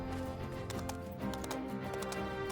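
Horse hooves clip-clopping in the farming life-sim game My Time at Evershine, a steady moderate clatter of steps over a continuous layer of game music.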